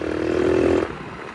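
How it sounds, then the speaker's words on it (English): A 150-dollar pitbike engine drones steadily while riding, with wind rushing over it. The engine is loud for most of the clip and then its hum drops away abruptly, leaving quieter rumble. "I won't go any faster than this due to wind noise and shakiness."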